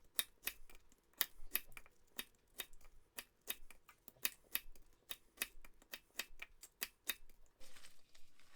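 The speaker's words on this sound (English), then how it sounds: "Chop off the end, cut it in half like that, pop it in the bowl." Knife chopping the ends off Brussels sprouts and halving them on a board, a quick run of sharp, evenly spaced taps, close but quiet, with no talk.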